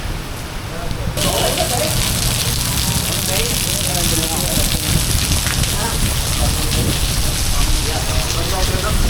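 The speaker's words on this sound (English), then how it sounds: "The bridge has sprung a leak. It's raining under the bridge." Rain falling under a leaking bridge in Hue, a dense steady hiss of drops and splashing water that stays loud and constant throughout.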